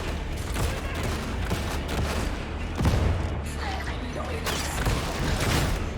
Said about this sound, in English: I just got gangranged by a fucking guy here with a shotgun. He's gonna keep shooting.